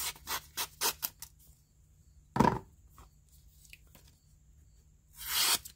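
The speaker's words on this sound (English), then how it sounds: "but maybe slice a piece of paper." Asher knife slices a piece of paper in a quick series of crisp tearing swipes, followed by a single sharp cut and a longer rasping slice near the end, close and fairly quiet.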